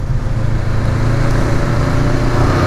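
A Honda CBR500R motorcycle's engine drones steadily and loudly under acceleration, a continuous low buzz blended with wind rush and no talk over it.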